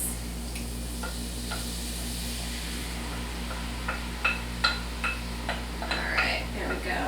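Tomatoes, zucchini and onions cooking over medium heat in a pan, a low sizzle running throughout with a few light scrapes and clinks from a utensil stirring the vegetables toward the end.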